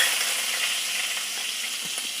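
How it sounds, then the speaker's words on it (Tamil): Cumin seeds frying in hot oil give a steady, close sizzle and crackle with a bright hissing texture throughout, no voices over it. "சீரகம் இப்படி பொரியிற சமயத்துலேயே சின்னதாக ஒரு துண்டு இஞ்சி"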